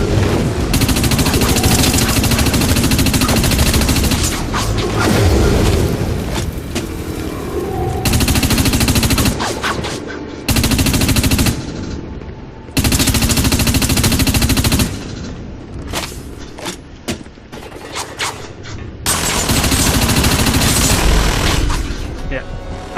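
Heavy machine gun fire in the Dust 514 video game rattles in long sustained bursts with brief gaps, loud and dense, mixed with other combat noise and some talking.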